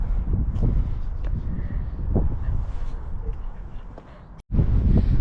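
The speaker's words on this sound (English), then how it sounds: "it's so windy" Gusty wind buffeting the microphone at a high lookout in Munich, with low rumbling bursts, cutting out briefly before a strong gust returns.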